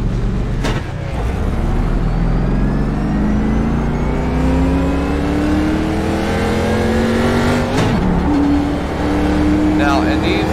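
Racing car engine in the iRacing simulator, a steady droning whine that climbs in pitch through the gears with brief shift drops, continuous and loud throughout with no talking.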